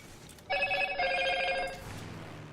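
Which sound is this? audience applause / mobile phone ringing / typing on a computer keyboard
mobile phone ringing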